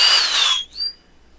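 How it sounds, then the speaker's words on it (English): An electric drill, used for winding wire coils, runs loud and close with a high whine, then winds down and stops, leaving near silence. "Here's the drill I was using."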